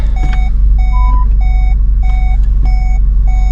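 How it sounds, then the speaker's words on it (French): Reverse-gear warning beeps from a 310 hp car repeat in a steady rhythm of about six evenly spaced tones, loud and close over a constant low engine hum, with no talking. "Là j'ai mis la marche arrière"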